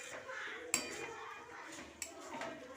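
A spoon scrapes and clinks against a pan while shrimp and banana flower curry is stirred with cumin powder, two sharp metallic knocks standing out over soft, close shuffling.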